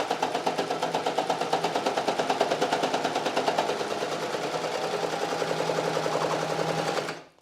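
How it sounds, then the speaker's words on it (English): A serger runs continuously for about seven seconds, its knife trimming the edge while finishing a seam allowance, making a fast, even rattling chatter up close before stopping abruptly. "I'm just going to go down on the pedal. As you can see, the knife is taking off this edge."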